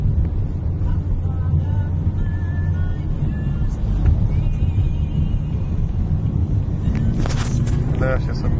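A car overtakes another vehicle towing a trailer on a highway in Yakutia, heard from inside as a constant loud engine and road rumble with wind noise, steady throughout with a few faint higher tones.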